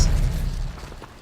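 Expelliarmus spell in Hogwarts Legacy, a short booming magical burst that opens strongly and fades over about a second.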